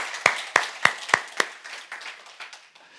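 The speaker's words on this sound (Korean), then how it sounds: "우리 하나님께 모든 영광의 박수 올려드리도록 하겠습니다" A church congregation gives a brief round of clapping, five sharp, distinct claps in a steady rhythm, then a softer scatter of hand claps fading out, with no talk.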